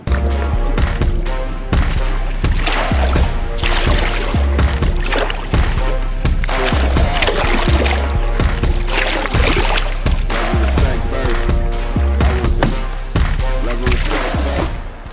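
A canoe paddled across open water with a bent paddle during a speed test, the strokes buried in heavy, steady wind buffeting and rumble that stays loud and close throughout with no talking.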